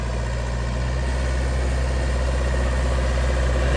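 A 2002 Vermeer V5750 trencher backhoe's diesel engine runs with a steady, loud low drone and a constant hum, unchanged throughout, and no voices can be heard.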